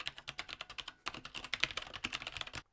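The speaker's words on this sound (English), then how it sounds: "You still get a nice responsive feel and that awesome clickety-clack sound." Rapid keystrokes rattle on a Razer BlackWidow Ultimate Stealth 2016 mechanical keyboard with Razer orange switches, a close, quiet flurry of clacks with a brief pause before a second burst.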